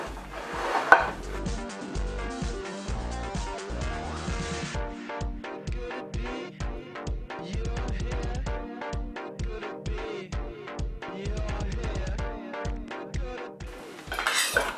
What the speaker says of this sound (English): Tom, if you'll kindly cut it for us